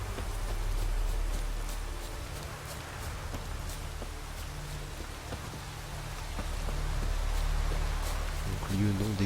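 Steady rain in the video game The Witcher 3: Wild Hunt patters continuously over a low rumble of thunder, with scattered drip-like ticks throughout.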